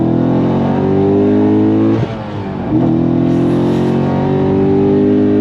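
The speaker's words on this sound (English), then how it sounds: "On throttle, here we go." A modified C6 Corvette Z06 pulls hard at full throttle in third gear, its loud, close V8 roar rising steadily with a brief dip at a shift before climbing again.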